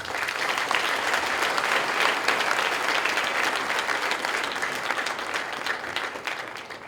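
A crowd at a youth political party investiture ceremony in Côte d'Ivoire bursts into loud, dense applause that holds strong before gradually tapering toward the end.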